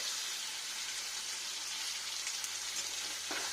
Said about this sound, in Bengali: এরকম হালকা টেম্পারেচারে এক পিট করা করে ভেজে নিতে হবে দু পিটেই এটা বেশিক্ষণ ভাজবো না